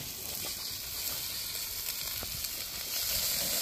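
Pork belly sizzles on an outdoor grill at a barbecue, a constant soft crackling hiss with small pops, even and unbroken throughout.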